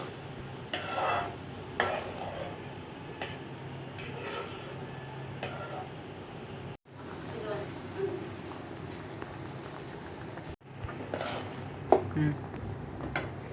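Thick kesari, a semolina sweet, bubbles and sizzles in a pot while a spoon scrapes and stirs it in irregular strokes, with faint clinks throughout.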